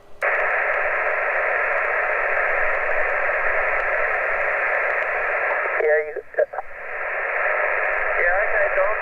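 Band-limited static hisses from an amateur radio receiver tuned to the 20-meter band, a steady loud rush with a brief burst of warbling interference partway through.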